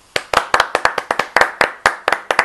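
A small round of applause, about a dozen sharp, close handclaps in a quick uneven rhythm from one or two people, with no voices over it.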